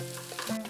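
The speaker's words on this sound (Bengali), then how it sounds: "3 মিনিটের মতন আমি চালটাকে ভালো করে ভেজে নিয়েছি।" Rice fries in a pan with potatoes and cauliflower, heard as a short, close burst of stirring scrapes over a soft sizzle, with no voices.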